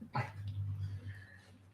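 An 80-pound pit bull and Labrador mix whimpers close by indoors, a short whiny yelp followed by low, drawn-out whining.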